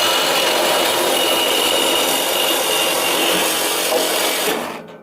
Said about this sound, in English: Really smooth with the saw compared to try with the grinder.